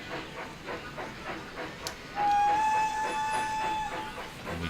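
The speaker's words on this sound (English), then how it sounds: "And then we can watch the train go." A steam locomotive in Railroad Tycoon 3 rolls along with a soft hiss and faint rhythmic clatter, joined midway by a sustained whistle tone that holds for about two seconds over the running noise.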